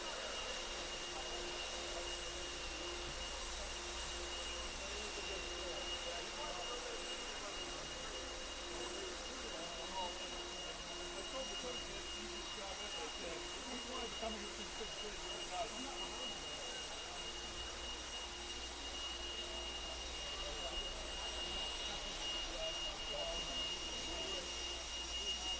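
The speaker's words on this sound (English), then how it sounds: "Marshall's going to grab those blowers, start blowing off your areas" Race track marshals' blowers roar steadily as they clear the track, a continuous loud whooshing drone with a faint high whine that holds for the whole stretch.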